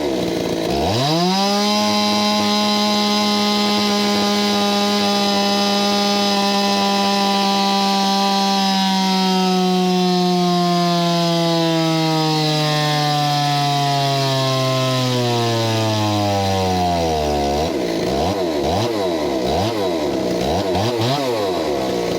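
A Stihl 026 chainsaw with a lowered cylinder and piston mod runs on a dyno, its engine screaming as it climbs in pitch over many seconds, then dropping and wavering near the end, loud and close.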